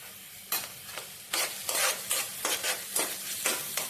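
Green chillies frying in a pan of Konaseema-style fish curry while being stirred, a soft background sizzle broken by repeated louder scraping and sizzling bursts from the spoon at an irregular pace, with no talking.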